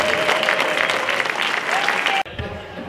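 German audience applauding for an eight-year-old girl who plays tenor horn, a dense, loud clapping that carries on steadily, then cuts off abruptly near the end as a voice begins.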